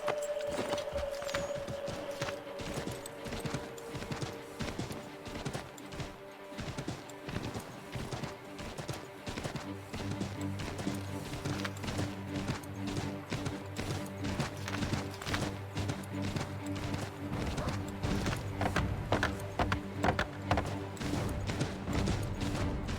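Hoofbeats of a horse in Assassin's Creed III, a rhythmic clip-clop running through a forest scene, moderately quiet and mixed with in-game music and ambient sound, with no talking.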